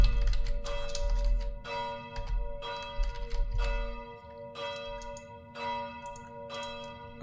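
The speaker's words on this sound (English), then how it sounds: "For whom the bell tolls?" Repeated church bell strikes from the horror game More Work Horror, seven or so slow, evenly spaced tolls with a sustained humming ring, over a low rumbling background and no voices.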